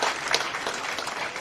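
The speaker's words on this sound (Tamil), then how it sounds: "நீங்கள் எல்லோரும் ஒரு பெரிய கைத்தட்ட" An audience claps at a book launch event in Tamil Nadu, a dense, loud burst of sustained applause from a crowd filling the room.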